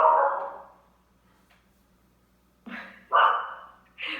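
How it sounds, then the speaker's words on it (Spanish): A dog barks nearby indoors, a loud bark at the start, then a quiet gap followed by a cluster of three sharp barks near the end, with no talking over them. "¿Le escuchan a mi perro?"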